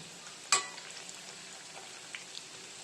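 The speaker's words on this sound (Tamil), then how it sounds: "நல்லா ப்ரௌன் ஆயிடுச்சு சூப்பராக ஃப்ரை ஆகி வந்திருக்கு" Potato and rice bondas deep fry in oil, giving a soft, steady background sizzle with one sharp clink near the start.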